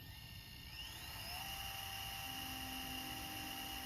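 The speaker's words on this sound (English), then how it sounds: "that transport sounds like it did when it was new" A JVC GR-DVM90 MiniDV camcorder fast-forwards its tape, giving a steady mechanical whir with a hiss of noise and a few faint tones that rise in pitch. The sound is quiet, close and continuous, with no talking.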